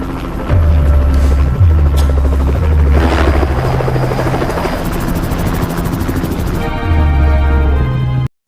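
A helicopter roars steadily with a loud, throbbing rotor chop from a rescue scene in a film trailer about a giant crocodile attack on a river in Kalimantan, its deep thumping pulses rising and falling with no talk.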